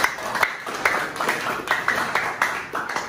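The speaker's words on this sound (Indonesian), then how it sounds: "tepuk tangan buat kita semua" Students applauding together in a classroom after group presentations, steady clapping from a small group with rhythmic bursts throughout, at moderate loudness.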